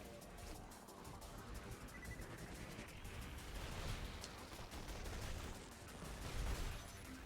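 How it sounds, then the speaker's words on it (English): Heavy booming cannon shots fire in quick succession amid a continuous barrage of Borderlands 2 battle noise, with no one talking. "Now I have a cannon."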